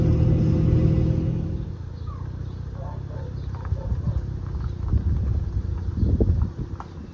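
A vehicle driving along while towing a trailer carrying a Craftsman riding mower, a steady low road rumble with rattling clatter from the load, swelling and easing as it rolls, with voices talking over it.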